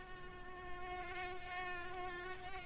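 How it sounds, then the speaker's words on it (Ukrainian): A steady, high-pitched mosquito whine hums continuously, close and clear, with no other sounds. "Так, це комарик."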